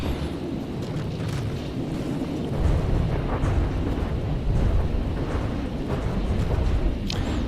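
Torpedo explosions in the naval combat game From the Depths, heard as a steady, loud wash of deep rumbling blasts and churning water that swells heavier partway through and keeps roaring without pause.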